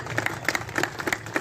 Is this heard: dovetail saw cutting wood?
no